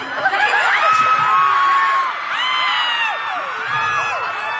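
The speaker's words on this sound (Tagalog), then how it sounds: "Grabe yung mga sigawan pag mga ganyan-ganyan" A crowd of supporters screams and cheers in loud, high-pitched bursts, with whoops and laughter rising in several waves over a few seconds.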